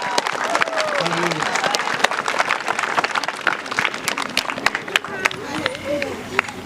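A crowd at a Christian revival service claps steadily, a dense patter of many hands, with voices calling out underneath.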